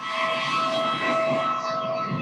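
Steady, loud cabin drone of an airliner in flight on a domestic route from Lima to Cusco, Peru: a continuous broadband roar with a faint whining hum running throughout.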